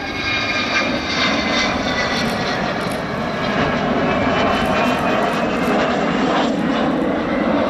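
An Avro Vulcan bomber flies at the RIAT airshow in 2012, its engines giving a loud, steady, roaring jet drone that holds strong for the whole stretch without pause.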